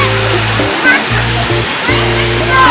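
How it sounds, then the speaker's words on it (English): Water features in a campground pool splash and pour in a loud, continuous rush, with a low tonal hum and voices mixed in. "Nice pool with water features."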